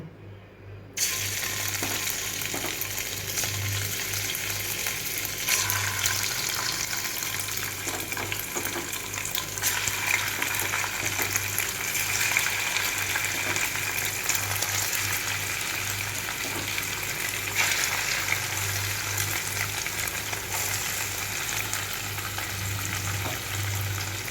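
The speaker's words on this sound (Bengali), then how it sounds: "এবার আমি সব পনিরগুলোকে হালকা করে ভেজে নেবো" Paneer cubes fry in a kadai with a little salt, giving a continuous sizzling hiss with a low steady hum beneath. It stays fairly even throughout after a brief quiet start, with no voices.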